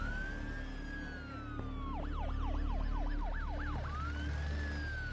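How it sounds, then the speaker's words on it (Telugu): An ambulance siren wails, switches to a rapid yelp, then wails again, steady and fairly close over a low traffic rumble at a barricaded road. "ఇటువైపు నుంచి అంబులెన్స్ వెళ్తుంది"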